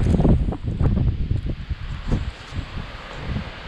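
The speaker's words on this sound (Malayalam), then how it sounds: "നല്ല കാറ്റ്." Strong wind blows outdoors on a snowy Canadian day, buffeting the microphone in irregular gusty rumbles that rise and fall with rustling through trees.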